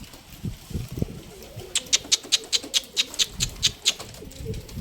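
Pigeons take off from a rooftop, a quick run of a dozen sharp wing claps in steady rhythm, moderately close, over faint outdoor background and scattered low noises.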